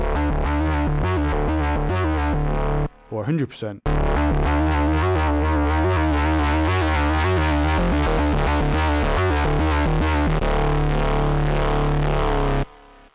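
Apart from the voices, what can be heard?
Korg Minilogue XD synthesizer with drive distortion turned on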